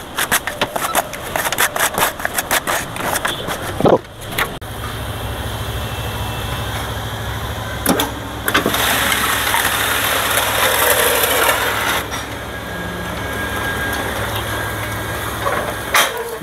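Motor of a concrete block making machine running steadily, a continuous low mechanical drone with rattling and clanking, preceded by a burst of rapid clicks and knocks as it starts up.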